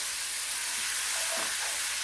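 Leeks stirred in a soup pan for creamy Cajun potato and sausage soup, a steady soft sizzle with a brief scraping stir across the bottom of the pan midway, close and alone without talk.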